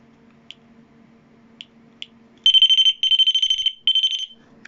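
A cheap door alarm sounds in loud, shrill electronic bursts, one long sustained tone followed by a couple of rapid pulsing stretches, after a few faint clicks as the door is touched.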